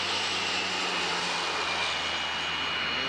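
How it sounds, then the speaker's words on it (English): A big jet airliner approaches on its landing descent into an airport near Niagara Falls, a steady broadband engine roar that stays loud and close through the whole stretch, with no voices. "we've got another big jet coming in"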